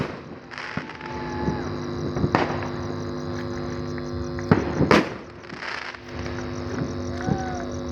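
New Year's midnight fireworks set off from houses make scattered, moderately distant bangs and pops, mixed with whistling rockets against a continuous background crackle.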